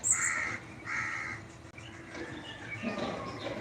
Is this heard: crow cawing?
yes